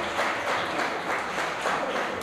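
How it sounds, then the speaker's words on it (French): A gala audience applauds a guest called to the stage, giving a short burst of dense, continuous clapping throughout. "Sous vos applaudissements"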